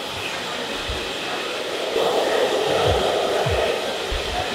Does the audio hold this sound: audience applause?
no